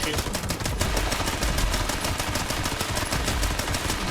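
Rapid gunfire in the video game Fallout 76, a loud continuous stream of evenly spaced shots running through the whole clip with no pause.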